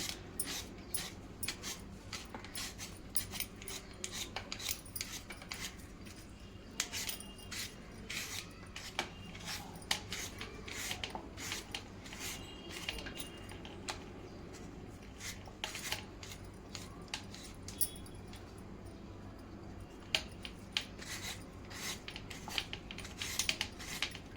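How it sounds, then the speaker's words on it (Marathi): Rapid rhythmic scraping of peeled potatoes being grated, with a steady rasping pattern and occasional clinks, fairly quiet. "हे बघा बटाटे किसून झालेले आहे"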